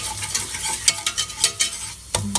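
Flour roux cooking in a pan, stirred and sizzling for lobster mac and cheese, with continuous frying hiss broken by scraping stir strokes, close up with no speech.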